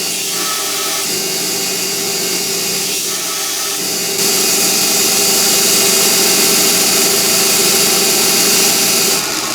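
Belt sander with a fine belt finishing a cast brass machinist hammer, a steady close grinding whine with motor hum that grows louder and brighter as the piece is pressed harder.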